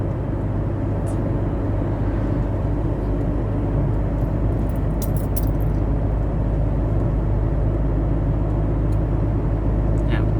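Toyota Revo 2.8 pickup cruising steadily while towing a trailer loaded with a tractor, a continuous low engine and road drone with wind noise, unbroken throughout, with someone talking over it.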